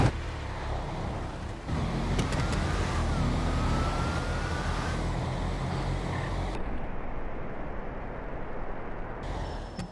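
Cars drag race in GTA V during a no-prep street outlaw event, with a sustained loud roar of game engines over about ten seconds. The noise swells after the start and cuts off abruptly near the end.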